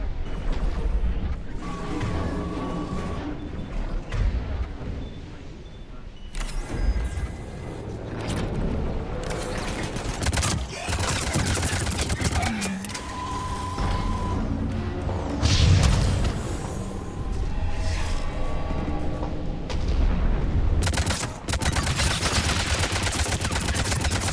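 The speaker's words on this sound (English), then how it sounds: "Bombardeio desses bichos aqui" Booming explosions and rapid gunfire from creatures bombarding the player in Mass Effect Legendary Edition, dense and loud throughout with repeated blasts and crashes layered over a constant battle din.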